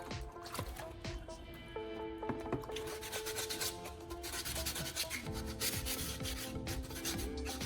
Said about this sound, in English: I continue sanding until the repaired area is incredibly smooth to the touch